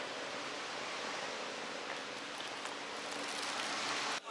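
Steady rain falls in Budva old town, Montenegro, a dense, even hiss of drops that stays constant throughout before cutting off abruptly at the end.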